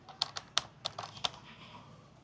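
Quick keystrokes on a computer keyboard tap out a short burst of about six clicks in a quiet room, then trail off into faint softer taps.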